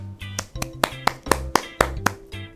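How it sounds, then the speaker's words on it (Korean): Applause at a children's church worship service: a short burst of scattered hand claps, loud and close, with an uneven rhythm of a few separate sharp claps. "다들 박수로 축하하도록 하겠습니다"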